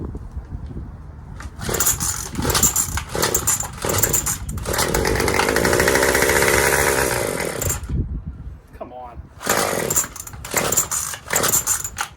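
A Husqvarna BL110 kerosene-fuelled engine fires and runs nearby, loud and rasping like a chainsaw, surging in bursts before a long sustained run, dropping briefly, then sputtering back in uneven revs.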